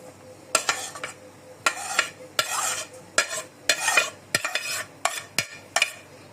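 Chopped hot green chili pepper and small diced tomato cubes are stirred into an egg mixture with a spoon, giving repeated scraping clinks against the bowl or pan in a steady rhythm, close and clear with no voices.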